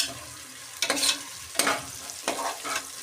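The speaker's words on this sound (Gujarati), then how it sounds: "આપણે વટોણાને તેલમાં પકાવી લેવાના છે" Salted green peas cooking in oil in a pan get stirred in three distinct scraping strokes over a soft, steady sizzle, heard up close with no voices.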